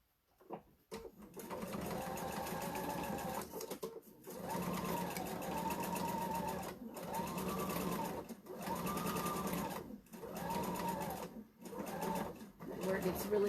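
A sewing machine runs in steady bursts stitching a quarter-inch seam on a pillowcase, its motor whirring loudly for a few seconds at a time with short pauses between runs, close up.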